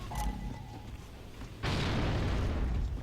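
Grenades explode during a Gears of War 3 tournament match, a loud broadband blast at about a second and a half that keeps rumbling to the end, after faint background game noise.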